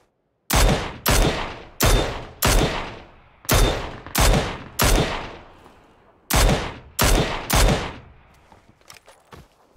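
Rapid gunfire in the battle royale video game PUBG Battlegrounds, about ten sharp loud shots in uneven bursts, each followed by a short decaying echo, ending with a few quieter cracks.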